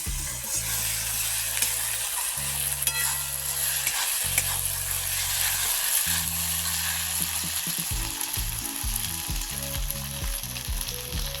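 Spice masala sizzles and fries steadily in a pan for chicken curry, a continuous bright crackling hiss with occasional scraping and stirring sounds, heard up close and without talk.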